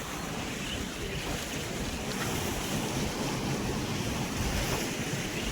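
Strong rushing water near farm fields, a powerful, continuous roaring wash with some wind buffeting the microphone, steady and loud from start to finish with no voices.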